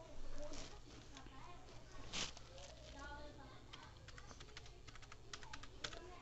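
Fingers tap out a mobile number on a computer keyboard, a quick run of light clicks and keystrokes at close range under a person speaking.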